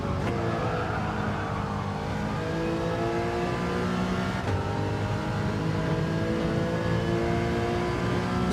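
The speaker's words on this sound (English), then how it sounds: "The noises of the cars are different." Race cars in Gran Turismo 7 lobby racing roar continuously, engines revving and shifting with rising and falling pitch as several cars run close together, with no talk.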